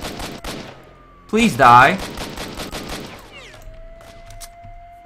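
Gunfire in Stalker: Shadow of Chernobyl, a string of sharp shots and short automatic bursts, loudest in the middle, close and crisp, with someone speaking briefly over the shooting and a steady electronic hum afterward.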